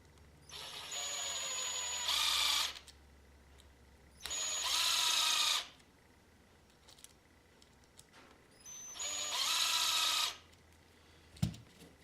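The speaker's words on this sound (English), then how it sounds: "then you can go ahead and use your power tool" Cordless power drill driving screws into the bulkhead of a Traxxas E-Revo 2.0 RC car, three separate whirring bursts of about a second and a half each with pauses between, close and loud, plus a sharp knock near the end.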